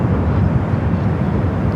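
An airliner arriving on runway 24 right at LAX fills the air with a loud, steady, broad jet roar that holds evenly throughout, with no voices.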